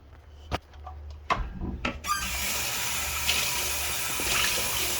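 Running tap water pours steadily into and over a container being rinsed out in a kitchen sink, starting after a few clunks and rubbing sounds and continuing as a constant close splashing rush.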